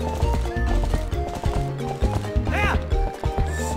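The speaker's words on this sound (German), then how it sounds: "So, einmal schön im großen Bogen reiten hier, antreiben." Horse hooves clip-clopping at a run in Zelda Twilight Princess HD, steady rhythmic beats under game music with a brief whinny, while someone talks over the gameplay.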